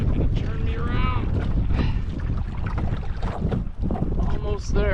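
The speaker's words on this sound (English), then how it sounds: "There's probably like 100 pounds on this wind." A strong headwind on the Black River during a canoe trip roars steadily and loudly across the microphone, with continuous buffeting and a voice talking over it.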